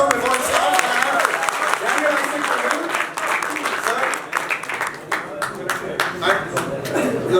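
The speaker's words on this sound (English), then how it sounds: "big round of applause for the face-off before it starts" An audience at a fight-night press conference breaks into sustained applause for the fighters' face-off, dense crowd clapping that stays loud and steady, thinning slightly toward the end.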